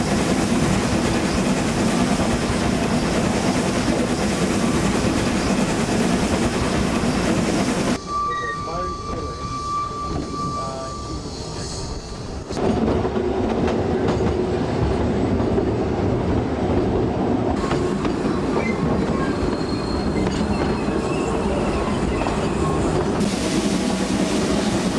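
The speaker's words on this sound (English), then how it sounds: "The train is now thundering down a falling gradient" Garratt steam locomotive train thundering down a falling gradient on a railroad, a loud continuous rumble with wheel clatter and rail noise, briefly softer midway before the roar returns.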